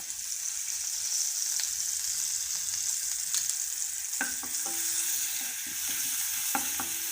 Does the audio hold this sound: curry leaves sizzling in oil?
yes